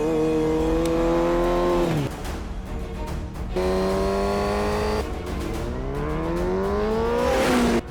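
A Yamaha R1 motorcycle passes with a loud, high-revving engine whose pitch climbs, drops sharply at gear changes, then rises again as it sweeps by close, with no voices.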